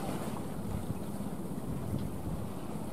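A Ben Tre trawler boat slowly approaches and moors alongside a buying boat, its low steady engine rumble mixed with wind buffeting and water wash throughout.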